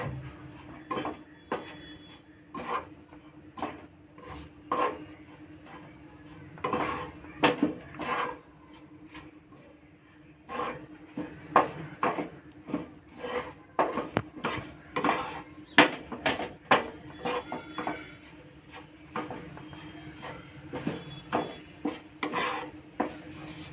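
Peanuts and grated coconut dry-roasting in a pan over a low flame, a utensil repeatedly scraping and clinking against the metal in irregular bursts of stirring, close and fairly loud with brief pauses.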